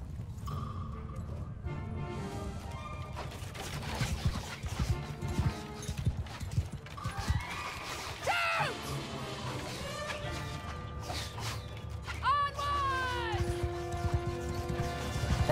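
Horse hooves clip-clopping in a Game of Thrones strategy video game amid battle ambience, with whooshing effects and someone talking over the game sounds throughout.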